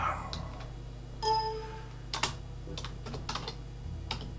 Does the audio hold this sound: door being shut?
no